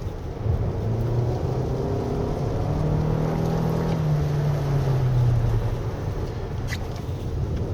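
A 2023 Toyota RAV4 Hybrid AWD drives a rain-wet winding mountain road, heard from the cabin as a steady low drone of engine, tyres and road noise with a gently rising and falling pitch, continuous and moderately loud.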